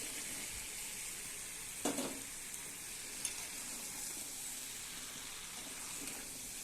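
Shrimp, jackfruit and potatoes sizzle steadily in a hot pan, a constant crackling hiss with a couple of brief scraping stirs.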